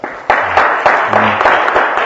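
A church congregation applauds after a Christmas Eve musical performance, a close, full burst of many hands clapping steadily with a few faint voices underneath.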